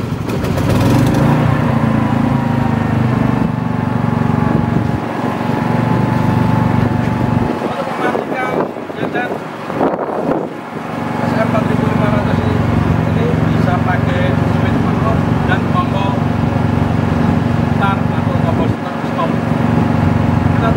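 A steady engine drones loudly and continuously from an AIPOWER SM4500i Plus smart generator, dipping briefly in the middle before resuming at an even pitch.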